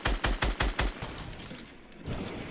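Sniper rifle fire in Fortnite: a rapid run of five sharp, loud, evenly spaced shots in the first second, then a lower rumbling tail and a fainter burst near the end.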